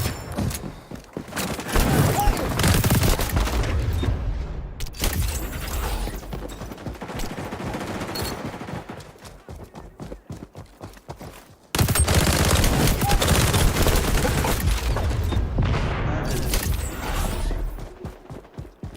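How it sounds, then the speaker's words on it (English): XDefiant gameplay: a grenade blast that wrecks a desk amid sustained close gunfire, with heavy rapid bursts, booms and mechanical clatter filling the space and two sharp loud onsets. "That my grenade blew up that desk."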